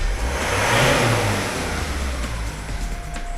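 A Renault Megane RS engine revs up loudly nearby after a radiator swap, peaks, then settles into a steady droning hum with a faint whine.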